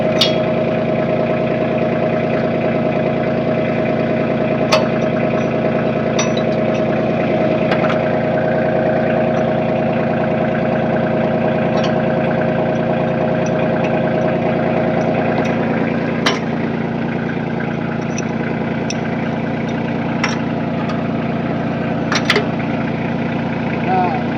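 A Kioti CX2510 compact tractor engine idles steadily and loudly throughout, with occasional clicks and clanks of equipment over the drone.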